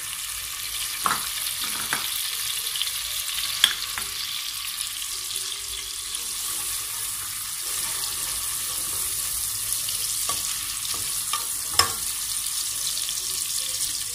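Food sautéing in a pan, onions and other ingredients for Asian-style Arabian rice, a steady broadband sizzle running throughout with a few sharp stirring clinks scattered across, close and moderately loud, no talking.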